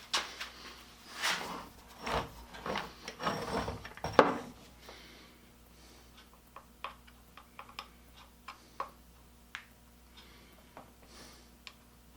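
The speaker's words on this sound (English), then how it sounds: "I can center it with a center punch" Some louder clattering, then a string of sharp metallic taps from a center punch on metal at uneven intervals, crisp and close in a quiet room.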